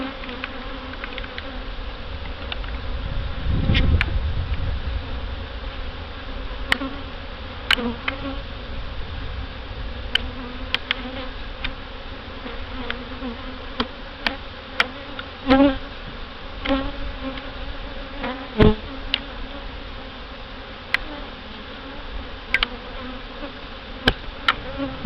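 Honey bees buzz in a dense, continuous drone throughout a mid-July hive health inspection, with brief clicks and knocks from handling frames rising above the steady hum.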